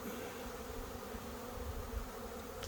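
Honeybees massing around a strong hive on the ground, a steady close dense buzzing drone holding at an even level throughout, with no talking.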